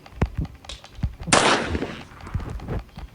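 Rapid bursts of gunfire in the video game Granny 2, with a string of sharp shots and one longer, louder blast in the middle, sounding close and punchy.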